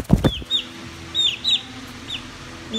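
A young black rooster about three to four months old makes several short, high, chirpy clucks at close range, spaced a half second or so apart, after a brief thump at the start.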